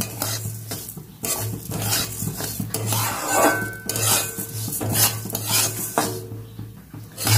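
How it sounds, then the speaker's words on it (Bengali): Chicken pieces frying in a pan, a metal spoon stirring and scraping against the cookware in repeated strokes over a soft sizzle, close up, with a low steady hum underneath. "মুরগিটাকে একটু ভাজবো না, হালকা করে ভেজে নেব।"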